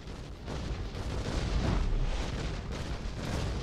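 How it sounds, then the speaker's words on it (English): A gun battery firing in Star Wars: The Old Republic, a continuous barrage of booming artillery blasts and rumbling explosions, loud and dense, swelling through the middle with no voices over it. "Gun battery firing."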